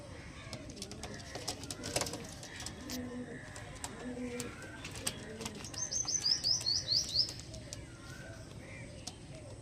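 Andhra Kalshira pigeons coo in a loft, with a few high chirps and brief wing flaps toward the end, all close and fairly quiet.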